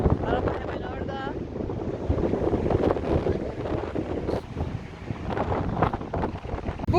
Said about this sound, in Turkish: Hava 20 derece ama çok rüzgarlı.